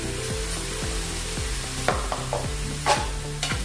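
A fenugreek, mint and curry leaf mix is stirred in a hot pan, with regular scraping strokes in a steady rhythm over a soft sizzle, plus a couple of sharper knocks, close by and without talk.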